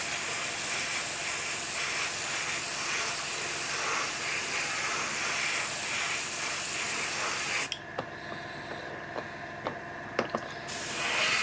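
Spray paint hisses in light coats onto a Bandai 1/48 StuG III model tank kit. A steady, close hiss runs for several seconds, then stops abruptly, leaving a few scattered clicks and handling taps.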